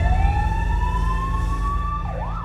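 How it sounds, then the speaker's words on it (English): An emergency vehicle siren wails loudly and steadily on a single rising and falling tone, close by, over a low engine rumble and with no talk. "That ambulance you can hear is our intensive care paramedic"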